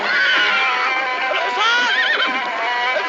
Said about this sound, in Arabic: الحصان، امسكوا الحصان